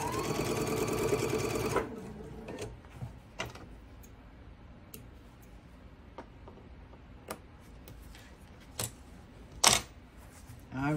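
A sewing machine runs in a brief rapid burst while stitching quilt block pieces together, then stops, leaving scattered clicks and light handling taps in a quiet room.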